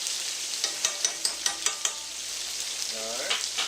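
Peppers in a lemon mixture sauté in a hot pan, giving a bright continuous sizzle with a quick run of spoon taps and scrapes partway through.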